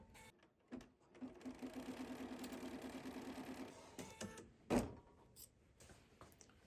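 A sewing machine stitching a foundation paper pieced quilt block runs in a steady, fast rapid-fire whir for a few seconds. Soft handling knocks come before and after, and a louder thump follows near the end.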